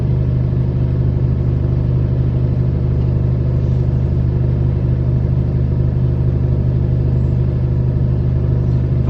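Trucks idling in a queue at the Greek-Turkish border: a continuous low diesel rumble, steady and close, with no change in pitch or loudness throughout.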